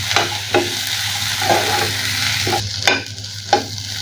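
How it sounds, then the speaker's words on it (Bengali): Garlic and onion fry in oil with a steady close sizzle, broken by several sharp spatula scrapes and taps as the pan is stirred at uneven intervals. "আমার রসুন পেঁয়াজটা ভাজা হয়ে গেছে"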